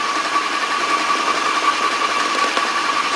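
A Powerwise peristaltic ink pump runs continuously nearby, a steady high-pitched motor whine with a constant buzzing hum and no pauses.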